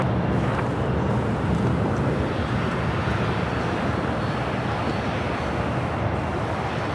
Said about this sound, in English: 1793 taking off to Puerto Vallarta on a 737-800